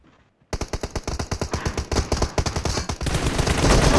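Rapid automatic gunfire from a weapon in a video game, a steady stream of sharp shots that runs for several seconds after a brief quiet start and grows denser and louder toward the end.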